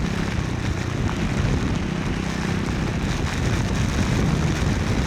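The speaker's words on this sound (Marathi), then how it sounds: "पावसाने चांगलाच झोडपून काढलेला आहे" Dense, steady monsoon downpour on the Pune–Tamhini Ghat route roars continuously, a broad hiss of heavy rain with low rumbling underneath and no voices.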